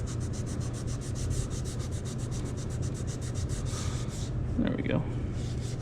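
Rapid, steady rubbing strokes scrub sticker residue from a 2025 Triumph TF 250-X dirt bike, a close rhythmic scouring that runs throughout, pauses briefly near the end while someone speaks, then resumes.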